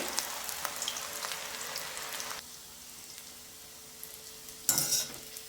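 Onion pakodi batter dropped into hot oil, a steady bright sizzle with crackling that quietens midway, then flares into a louder burst of frying near the end; no voices.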